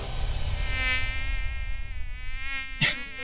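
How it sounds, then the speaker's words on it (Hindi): A housefly buzzes close by with a steady, whining drone that wavers in pitch, then a brief louder swell near the end as it passes, with no talking. "ये मक्खी हमारे बीच आ गई"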